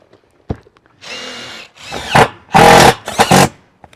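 A DeWalt power drill works on a roofing job, sounding in short separate loud bursts of whirring that rise and stop, four runs in quick succession after a single sharp knock.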